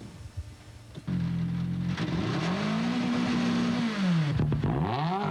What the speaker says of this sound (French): En fait, le moteur de la Focus tourne sur 3 cylindres.